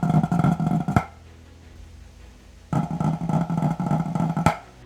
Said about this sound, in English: Ever wondered why your rolls sound like this?